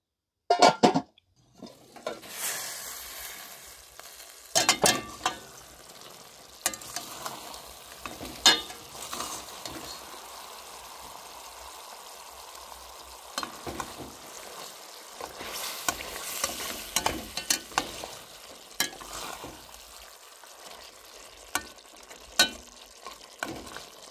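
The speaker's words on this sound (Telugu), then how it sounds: "ఇప్పుడు సిమ్లో ఒక 5 మినిట్స్ కానీ మూత పెట్టి ఉంచేస్తే ఇంకా ఫ్రై రెడీ అయిపోద్దండి" Chicken fry simmering in a pan under a lid gives a low, steady sizzle, with scattered metallic clanks and scrapes of utensils and cookware, sometimes clustered, close by and without speech.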